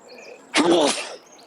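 A single sharp sneeze bursts out briefly at the table during a tabletop role-playing session, moderately loud against a quiet room with faint background sounds.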